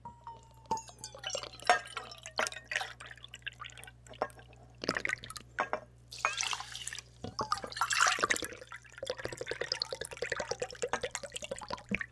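Coconut water poured into a cooking pan, giving irregular splashing and trickling bursts with drips and gaps between them, close and fairly quiet, with no talking.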